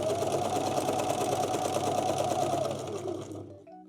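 Sewing machine stitching jersey trousers, a steady close rapid mechanical whirr that runs evenly and then slows and stops at the end of the seam.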